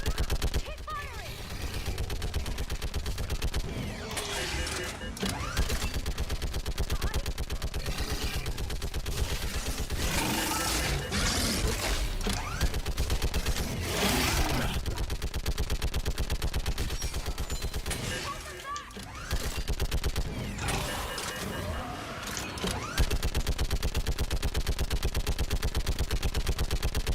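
Sustained gunfire from the video game Mass Effect, with dense, continuous bursts of rapid shots and blasts filling the whole stretch and only brief lulls, loud and close with voices shouting under the din.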